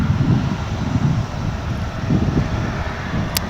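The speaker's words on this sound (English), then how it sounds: "We've got a plane coming in now on, there's my button. It's arriving on 18 left." An Embraer 175 regional jet landing on runway 18 left at Dallas-Fort Worth, a rumbling low engine roar that swells and fades in waves, mixed with gusty wind buffeting the microphone.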